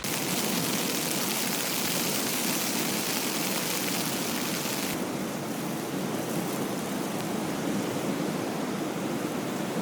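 Rain and wind lashing a backpacking tent in a storm, a dense, loud, unbroken hiss and roar that holds steady for the whole stretch with no voices.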